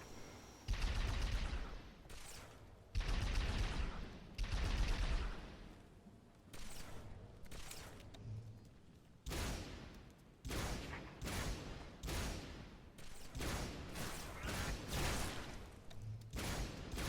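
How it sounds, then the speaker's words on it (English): Gunfire in the Halo video game: repeated loud bursts of automatic fire and sharp shots in irregular clusters, some long sustained volleys, with quieter gaps between them. "Where are they shooting from?"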